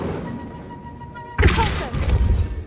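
Incendio fire spell cast in Hogwarts Legacy: a sudden burst of flame and crackling impact lands after a quiet hum, followed by a few rumbling thuds, close and loud.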